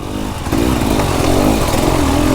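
A KTM motorcycle engine lugs at low revs, a loud close rumbling putter with a strong pulsing beat that steps up in load midway and holds steady.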